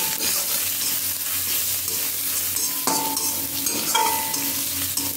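Crushed ginger fries with asafoetida in a pan for Bengali biulir dal, a dense, steady sizzle with stirring scrapes that stays close and loud throughout.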